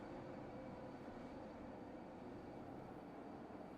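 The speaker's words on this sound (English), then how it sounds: "Is that airplane noise in the background you or the ambiance?" Background ambiance of steady, faint wind resembling airplane noise, a continuous broadband rumble and hiss that holds at an even, low level throughout with no talk.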